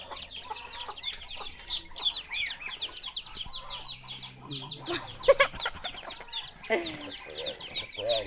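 A flock of chickens clucks and chirps continuously, many overlapping calls close by, with a voice murmuring faintly underneath.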